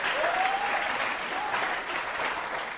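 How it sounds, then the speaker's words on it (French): A church congregation claps together in steady, fairly loud applause for a few seconds, with a voice or two rising faintly above the clapping. "Let's give Jesus a big hand, everybody."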